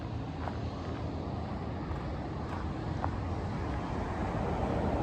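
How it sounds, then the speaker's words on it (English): Steady highway traffic at a trailhead in Yoho National Park forms a continuous low rumble, with faint brief sounds standing out on top and no talking. "Right on the highway, so lots of traffic noise"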